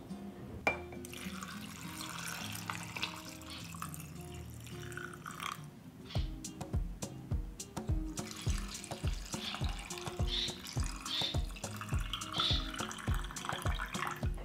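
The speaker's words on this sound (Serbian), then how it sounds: "Sada ću naliti toplu vodu u tegle" Warm water is poured into glass jars, a steady running stream that turns into a quick, rhythmic glugging as the jars fill, with no voices.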